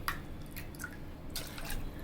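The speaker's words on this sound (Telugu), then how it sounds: "ఇదే గ్లాస్తో ఇప్పుడు నీళ్ళు వేసుకుంటున్నాను" Water poured in short splashy bursts into a pot, faint and close, with dripping between the pours.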